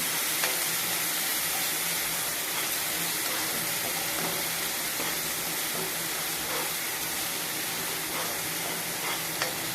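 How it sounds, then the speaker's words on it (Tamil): Onion and garlic sauté in groundnut oil, with banana flower in the dish: a steady, dense sizzle that continues unbroken, with faint stirring scrapes now and then and no talk. "வெங்காயம் பூண்டு போட்டு எண்ணெயில் வதக்கணும்."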